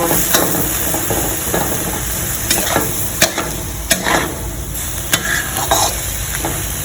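Straw mushrooms and long beans for a vegetarian basil stir-fry sizzle loudly in a pan, with repeated scraping and clacking strokes from stirring throughout.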